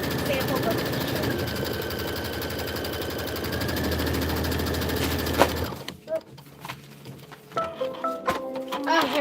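A Kimberbell embroidery machine stitches steadily with a fast, even mechanical whir for several seconds, then stops and gives way to quieter rustling and handling sounds.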